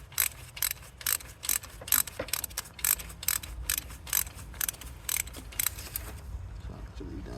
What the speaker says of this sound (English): let's go ahead and unscrew that. I got a long extension to be able to take it off.